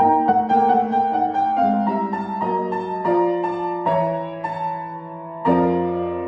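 Solo piano playing a full, chordal passage that swells and builds, with sustained harmonies shifting step by step; no talking.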